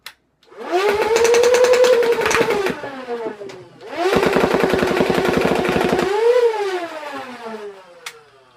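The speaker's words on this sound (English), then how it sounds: "I suppose I could just shoot all 40 rounds in and then deal with the pickup later." A modified Nerf Rivals Khaos blaster fires rounds in two long bursts of rapid full-auto shots, each riding on a loud whining motor hum that rises and falls, with a short pause between bursts and no talking.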